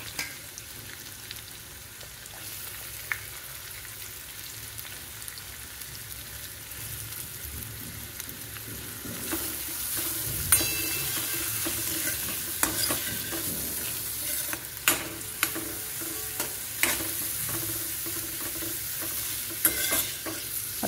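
Chopped onion sautéing and being stirred in a pan for mushroom masala bhaji, a steady close sizzle with frequent spatula scrapes and clicks that grows louder and busier partway through, with no talking.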